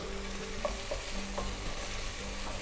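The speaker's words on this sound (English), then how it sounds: "When we saute them nicely in the oil, the real flavor of ginger and garlic comes out." Ginger and garlic sauté in hot oil for a mutton curry, a steady close sizzle with a few scraping stirs of the spoon and no talking.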